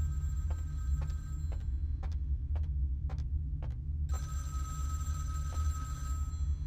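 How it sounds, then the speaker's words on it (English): A telephone rings in the video game Vampire: The Masquerade – Bloodlines: a series of short, regularly spaced electronic trills over a steady low, throbbing hum, with no voices. "Let's answer the phone."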